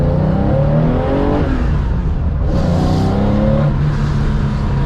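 A Porsche 911 with a new muffler revs up and settles as the car drives, its engine loud and close with rising and falling harmonic tones and a brief higher whir midway.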